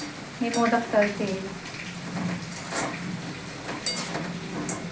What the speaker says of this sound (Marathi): मी मोदक तळते.